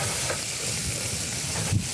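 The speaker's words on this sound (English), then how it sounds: "Ah, hear that sizzle?" Garlic and olive oil sizzling and crackling in a pan on a galley stove while being tossed, a close, steady frying hiss with faint stirring scrapes.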